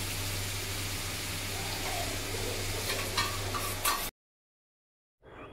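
Marinated paneer sizzles and fries in hot oil in a kadai, a steady dense hiss with occasional stirring clicks, then cutting to silence before the sizzle resumes.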